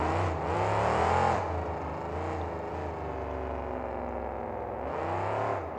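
A monster truck engine roars steadily as the truck drives around an arena at a 2004 New Orleans monster truck show, loud and continuous, swelling briefly near the start and again at the end.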